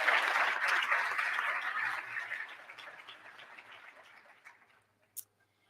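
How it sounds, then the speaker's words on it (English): An audience at a state contest award ceremony claps loudly and steadily after a Teacher of the Year award. The clapping thins out and fades over several seconds, ending with one last brief sound. "Let's give him a big round of applause."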